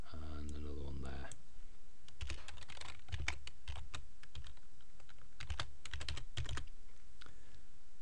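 Fingers type on a computer keyboard in quick clustered bursts of crisp clicks and key thuds, close and fairly quiet, after a short electronic tone at the start.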